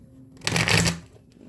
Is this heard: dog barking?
no